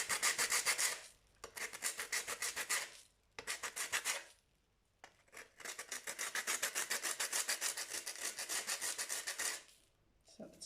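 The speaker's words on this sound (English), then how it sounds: "it's quite easy to sand, and it's ready to come off" Sanding a cement casting by hand, steady rhythmic scraping strokes in several long bursts separated by short pauses, close and clear with no talking.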